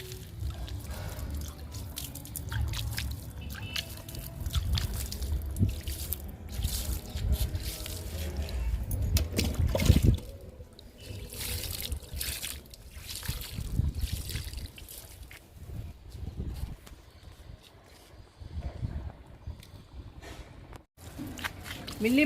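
Homemade liquid fertilizer made from food peels is poured onto a potted plant, making an uneven trickling and splashing sound close by, with a voice talking over it.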